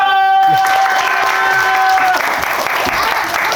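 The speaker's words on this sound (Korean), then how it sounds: "친구들 안녕. 박수!" Loud, steady applause from a crowd of children at the end of a magic show fills the clip, with a few voices briefly audible over the clapping.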